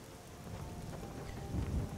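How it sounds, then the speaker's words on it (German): Rain and rumbling thunder in the video game Skyrim, rain falling through a roof, a steady wash of rainfall with a deep thunder roll swelling near the end. "Es regnet durchs Dach."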